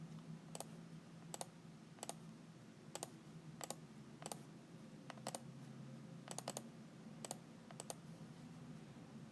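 A computer keyboard is tapped at an even pace, with soft, single clicks about every half second over a quiet background hum.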